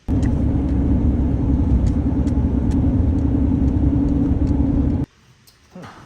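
A Honda Element drives along, a loud steady road and engine rumble close up that cuts off abruptly near the end, leaving near silence with a faint knock.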